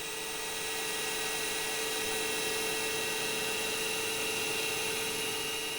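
A small CNC lathe runs a turning program cutting a safety valve part, giving a steady, loud high-pitched whine with a constant mechanical hum and no pauses.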